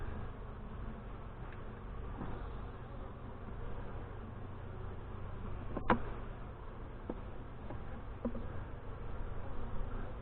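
Honey bees swarm around an open hive during an end-of-April inspection, a dense, continuous buzzing hum close by with a brief sharp click partway through.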